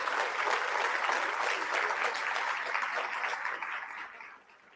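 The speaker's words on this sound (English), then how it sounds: "That, I think, deserves a round of applause." Audience applause at a charity gala, a dense, sustained round of clapping from a large crowd that tapers off in the final moment.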